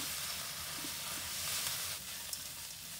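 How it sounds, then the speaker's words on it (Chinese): Mantis shrimp heads and legs stir-fry in a wok over medium-low heat, making a soft, even hissing sizzle that holds steady throughout, with no voices. "将虾头和虾脚倒入锅中，翻炒一下，用中小火炒至香味四溢。"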